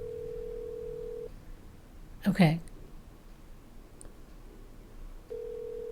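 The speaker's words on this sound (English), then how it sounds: "I'm trying to keep the ringing sound down" On an outgoing telephone call, a steady ringback tone sounds in the earpiece, then pauses while a person speaks briefly, and the ring starts again at the end, fairly quiet and close.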